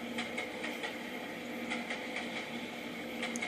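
A train rolls along steadily in a video game, a continuous mechanical hum with a soft, regular clicking rhythm, moderately quiet, with no voices.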